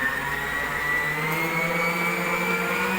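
An electric hand mixer whisking birthday cake ingredients together in a bowl, a steady loud high-pitched motor whine holding constant throughout with no pauses.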